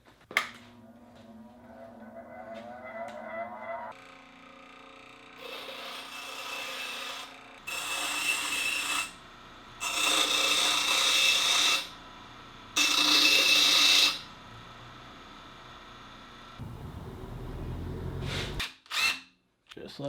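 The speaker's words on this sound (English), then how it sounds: "so I'm just going to go grind the tip off." A power grinder takes the tip off a metal part from a Dewalt DXST4500 shelving unit, in several loud rasping bursts of a few seconds each with pauses between, ending in clattering handling noises.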